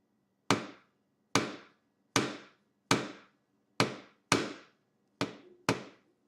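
Eight sharp hammer taps strike a car wiper arm to loosen it from its mount, evenly spaced and close, each a bright metallic knock that quickly dies away against a quiet background.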